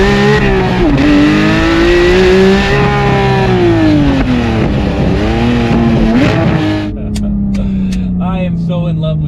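Porsche GT3 Touring engine loud and close as the car accelerates, the revs rising and falling through gear changes with a steady engine tone, then the engine drops to a lower drone near the end.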